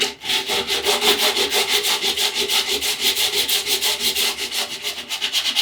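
Sandpaper rubs by hand over glassed-on surfboard fins in fast, even back-and-forth strokes, loud and close, with no voices.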